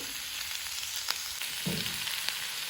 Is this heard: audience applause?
no